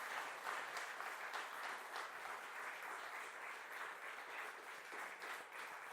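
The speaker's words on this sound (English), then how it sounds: "how about a round of applause?" Brief, fairly faint applause from a lecture audience, a soft wash of clapping heard somewhat distant and evenly sustained.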